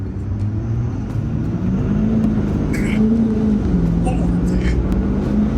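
A 650 HP 6.7 Powerstroke diesel truck in four-wheel drive accelerating, its engine roaring loud and close with a rising, wavering tone throughout, while people inside talk over it.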